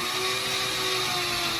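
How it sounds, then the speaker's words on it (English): A steady high-pitched whine of a drill boring slowly into wood, running continuously, with a constant motor tone and no voices. "we're gonna take this little drill bit and drill it right in there"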